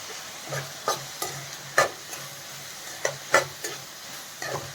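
Leftover chapati noodles stir-frying in a pan, with a soft background sizzle broken by sharp, irregular scrapes and clicks of a spatula, close and alone without talk.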